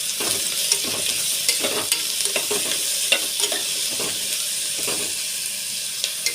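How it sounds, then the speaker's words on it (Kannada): Ground masala paste frying and being stirred in a pan for cabbage and pea rice bath, a steady close sizzle with repeated scraping stirs and light clinks throughout, no voices. "ಸ್ವಲ್ಪ ಹಸಿ ವಾಸನೆ ಹೋಗೋ ತನಕ ಹುರ್ಕೊಳ್ಳೋ"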